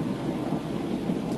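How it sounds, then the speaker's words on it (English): Sudden vigorous rain shower pouring over a house under renovation, a dense, steady roar of rainfall with a low rumbling undertone, continuous and loud. "We just got a pretty vigorous shower."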